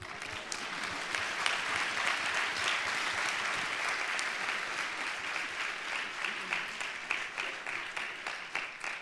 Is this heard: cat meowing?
no